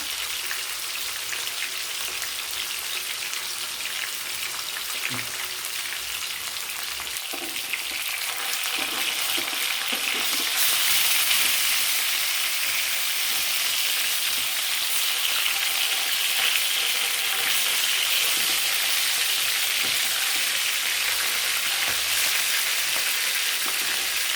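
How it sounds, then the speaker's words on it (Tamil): Fish deep frying in hot oil, a continuous crackling sizzle like rain that grows louder and brighter partway through, close and steady with no talk. "இது வந்து நல்லா பொரிச்சிக்கலாம். எப்படி பொறுத்தாலும் இது வந்து பார்க்க நல்லா சாப்பிட்றதுக்கு மெதுவாக தான் இருக்கும். அதனால் நம்ம டீப் ஃப்ரை பண்ணிக்கிறாங்க."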